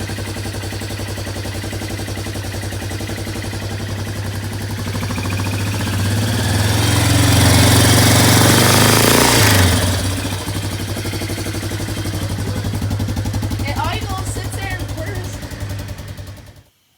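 A Kodiak engine fitted with a muffler runs steadily close by, swelling louder in a rev midway before settling back to an even idle, with a voice speaking over it.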